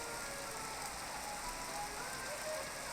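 Heavy rain pours down steadily outside along a road, a dense, unbroken hiss that fills the whole stretch evenly with no voices over it.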